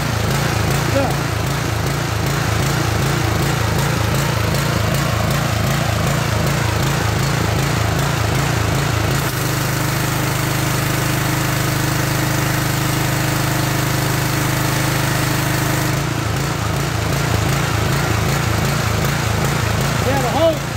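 A Simpson 4000 psi gas pressure washer engine runs with a steady, chugging drone that shifts pitch midway, holding loud and close throughout; a voice talks over it.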